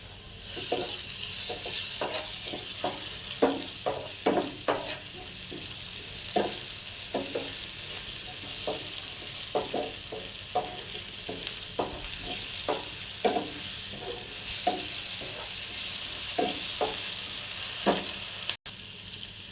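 Onions with ginger garlic paste frying in a pan, a constant oily sizzle broken by repeated scraping strokes of a spoon stirring, steady and close with no talking.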